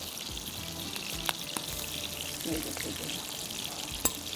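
Kababs frying in a large frying pan, a soft continuous crackling sizzle with occasional louder pops and spatters, faint and steady throughout.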